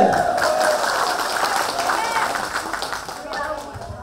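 Sustained applause from a hall full of guests at a 90th birthday celebration, steady clapping that fills the whole stretch and runs under a voice.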